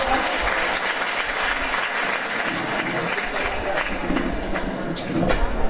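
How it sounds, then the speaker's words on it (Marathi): Sustained audience applause at a kirtan festival performance in Solapur, a dense crowd clapping steadily and loudly for the full stretch, swelling slightly near the end. "टाळ्या वाजवा."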